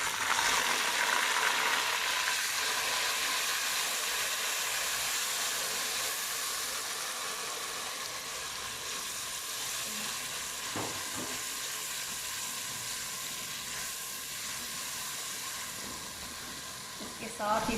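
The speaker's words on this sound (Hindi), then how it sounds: "अभी हम इसमें अदरक लहसुन का पेस्ट डालेंगे।" Ginger garlic paste fries in a pot for a beef and chickpea pulao, giving a steady, fairly loud sizzle that lasts the whole stretch, with a few faint stirring knocks.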